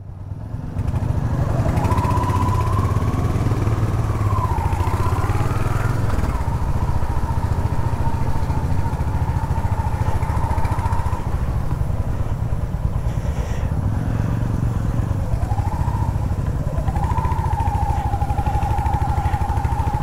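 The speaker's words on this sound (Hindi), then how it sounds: "पूरा हम लोग का लाइनअप निकला, सबसे आगे चिराग" A group of motorcycles, including a new Royal Enfield Hunter 350 and an Apache, pulls away with a steady engine drone and rising and falling revs as the riders move off together, loud and continuous with no talk.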